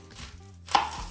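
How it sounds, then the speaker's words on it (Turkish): A knife chops through an onion on a cutting board, giving a single sharp, close cut after some soft handling noises, with no talking. "şimdi bir tane soğan doğrayacağız."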